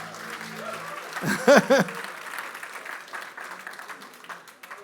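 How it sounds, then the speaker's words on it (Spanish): Church congregation clapping during a Spanish-language sermon, a soft wash of applause with a brief louder cluster of voices and laughter near the middle, then continuing faintly. "las hermanas aplaudan."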